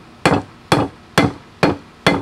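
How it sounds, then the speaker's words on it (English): Hammer blows fall on forge-welded steel, being driven flat: five sharp, loud metallic strikes in an even rhythm about half a second apart. Each blow rings briefly, and there is no talking. "So I'm gonna drive this one side flat."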